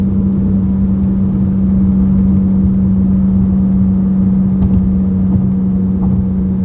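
A Ferrari 458 with an S-Line exhaust, valves closed, gives off a loud, steady engine drone with a strong low hum, continuous and close, with only a few faint ticks and no voices.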